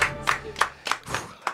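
Five or six sharp, separate claps ring out at a French film show, spaced unevenly and fairly close, like one or a few people clapping rather than a full crowd.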